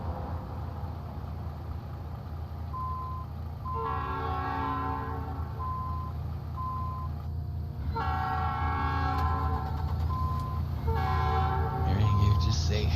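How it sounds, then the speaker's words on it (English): A freight train passes in American Truck Simulator, its horn sounding in several long repeated blasts over a steady low rumble of rolling wagons, with a voice speaking briefly underneath. "There's a train coming."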